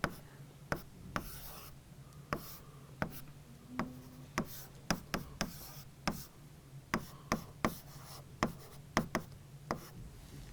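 Pen strokes on paper while a parallel-form IIR filter diagram is hand-drawn, a steady series of short sharp scratches and taps roughly every half second, close and quiet, with no talking.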